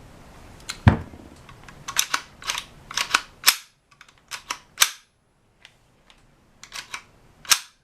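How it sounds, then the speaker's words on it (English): AR-15 rifle fitted with a CMMG .22 LR conversion kit, handled up close, giving a series of sharp metallic clicks and snaps in irregular clusters, one louder clack standing out, with no voices. "the minute you pop the magazine, the bolt closes."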